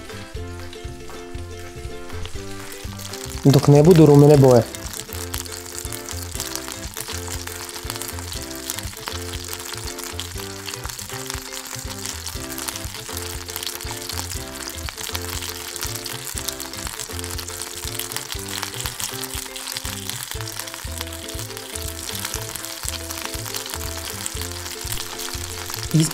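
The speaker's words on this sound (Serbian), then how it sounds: "Na zagrenom tiganju opeći noazete" Rolled pork fillet noisettes pinned with toothpicks sizzle and crackle steadily in a hot pan, a loud, continuous frying hiss throughout, with a brief louder burst early on and a voice speaking briefly near the start.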